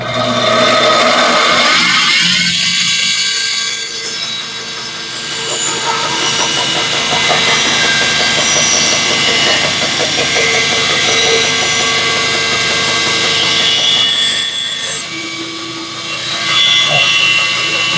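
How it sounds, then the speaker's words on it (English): Bandsaw slicing through wood for a bird nesting feeder, with a steady motor whine and a rasping cut that runs through most of the stretch, easing briefly near the start and again around the fifteenth second. "So let's go over to the bench or the bandsaw, we'll cut that out."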